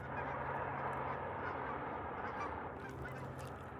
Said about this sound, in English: Check out some geese flying over.